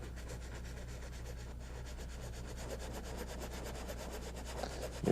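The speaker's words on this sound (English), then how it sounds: "You can hear that scrubbing sound" A paintbrush scrubs glaze onto a canyon landscape painting, giving a steady, continuous rhythmic rubbing that repeats in fast strokes for the whole stretch, close and fairly quiet with no talking.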